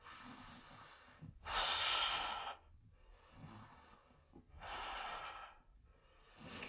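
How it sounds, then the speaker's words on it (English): Slow, deliberate breathing in and out during a yoga flow, with three loud, close breaths separated by quiet pauses. "take a breath in and out"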